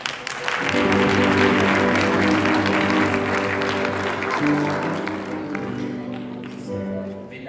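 A Haitian Baptist church congregation applauds steadily, with clapping mixed under sustained organ or keyboard chords and some murmuring voices, fading slightly toward the end.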